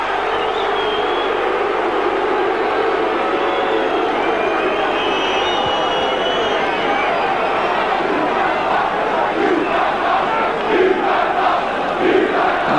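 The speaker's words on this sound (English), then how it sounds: "You get a good cry from the crowd." Football crowd at a Charlton Athletic v Sheffield Wednesday FA Cup third-round match roaring and cheering loudly, a dense sustained wash of voices that swells with rising shouts near the end.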